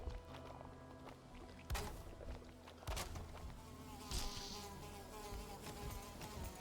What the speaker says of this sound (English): God damn mosquito.